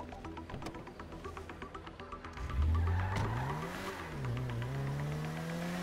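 Car arriving and revving in Grand Theft Auto V: a steady engine drone rises into a loud rev partway through, then settles into a sustained, wavering engine note with rising and falling pitch.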